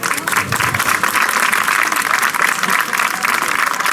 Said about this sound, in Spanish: pues ya habéis aplaudido